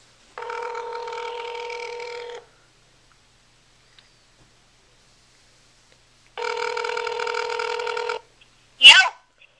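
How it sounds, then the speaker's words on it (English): Outgoing call ringback on a Motorola Droid X in speakerphone mode: two long ring bursts separated by a few seconds of silence, followed by a short voice answering at the end. "Now, I have dialed one of my friends, and he's going to answer. It's on speakerphone."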